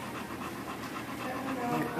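A big, older dog pants in quick, steady breaths close by, the rhythmic huffing running throughout with voices nearby.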